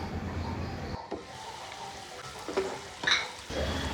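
Chopped tomatoes fry in a pan for an Andhra-style egg pulusu, a steady low sizzle broken by a few scraping stirs and light clinks of the spoon against the metal, close by with no talking.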